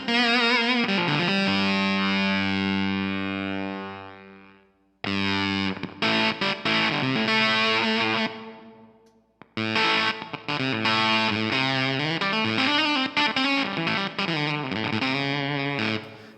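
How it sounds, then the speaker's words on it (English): Electric guitar played through a KingTone MiniFUZZ Si silicon fuzz pedal with the fuzz turned up and the bias lowered, giving thick, sustained distorted lines in three loud phrases separated by brief gaps, with no talking. "So let's back off the bias. We're going to turn the fuzz up."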